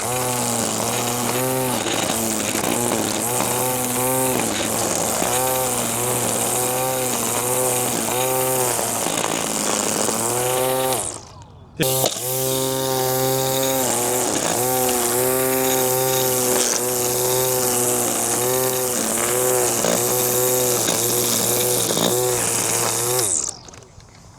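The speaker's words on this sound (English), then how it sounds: "And that is your weed whacker." An ALSO GO 21V cordless string trimmer with a 2.0Ah battery whines loudly and continuously while cutting grass, its pitch wavering as it works, with a brief dropout midway before the buzzing resumes.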